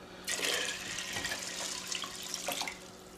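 A stream of water starts abruptly and splashes into a pot of pinto beans, steady with slight gurgling shifts, then thins out near the end.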